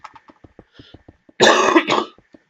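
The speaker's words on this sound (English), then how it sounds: "I had a bit of cough there" A single loud, harsh cough bursts out near the microphone, a short double-pulsed hack followed by a softer second push, set against quiet intermittent clicking from computer game play.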